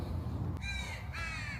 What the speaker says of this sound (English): These crows are barking.